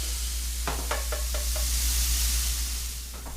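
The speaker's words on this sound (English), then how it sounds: "you want to get those mushrooms frying pretty good" Steady sizzling from mushrooms frying in a pan, with a few light knocks of a utensil stirring early on; no talking.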